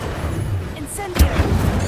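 An Incendio fire spell is cast in Hogwarts Legacy, a short whooshing burst with a low boom partway through, amid ongoing game combat sounds.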